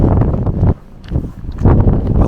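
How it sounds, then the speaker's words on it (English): Strong wind of about 30 miles an hour buffets the microphone on a cold, snowy morning aboard a coastal ship in northern Norway, loud rushing gusts with a brief lull in the middle. "We've got winds at about 30 miles an hour."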